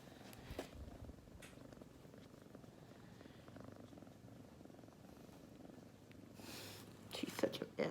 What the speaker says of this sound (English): There's nothing more soothing than a purring kitty.